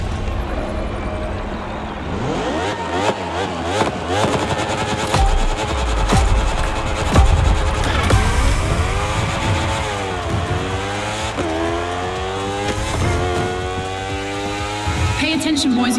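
Racing motorcycle engine in The Crew Motorfest, revving and shifting through rising and falling pitch sweeps at steady loudness, with a voice or music layered underneath throughout.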